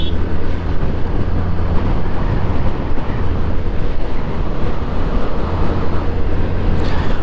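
A Yamaha Ray ZR 125 scooter cruising at around 60 produces a loud, steady engine drone blended with continuous wind rush, close and unbroken throughout, with no talking.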